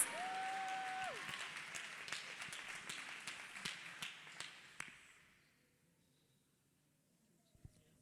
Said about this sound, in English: Let us clap hands for Master Jesus, people of God